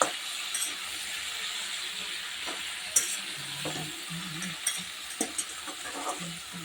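Food fries in a pan on a home stove, giving a soft, continuous sizzle broken by scattered clicks and scrapes as it is stirred, close by and without any talking.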